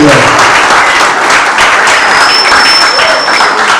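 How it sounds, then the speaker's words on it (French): Audience at a graduation applauding a man, loud, dense and continuous clapping from a large crowd close by, with faint voices mixed in throughout. "docteur Jadoul Kongolo, que je vous prie vraiment, avec tout le respect et honneur, d'applaudir ce monsieur"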